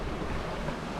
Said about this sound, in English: Just showing you some of the swells that we got here at the minute.